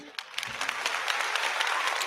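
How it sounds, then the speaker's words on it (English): An audience claps steadily for about two seconds, a dense, even patter of hands. "oh, thanks for the clap."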